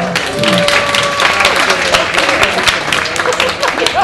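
Audience applause at a Finnish stand-up comedy show, dense steady clapping from a crowd filling the whole stretch, with a brief whistle-like tone and some crowd noise mixed in.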